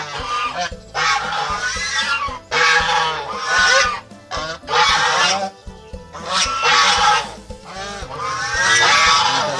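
Geese on a small Thai farm honking loudly and repeatedly, several birds calling over one another in continuous overlapping bursts close by.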